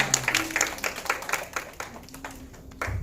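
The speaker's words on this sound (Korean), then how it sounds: "박수 한번 주세요." Children clapping during a church kindergarten service, a short burst of scattered, fairly quiet claps that thins out toward the end.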